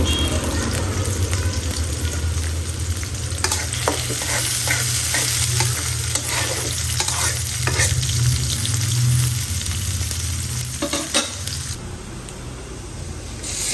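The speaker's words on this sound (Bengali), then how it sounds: "প্রথমে আমি পেঁয়াজ দিয়ে দিচ্ছি" Onions fry in a pan with a loud, continuous sizzle and repeated scraping strokes of stirring, heard close up and steady throughout.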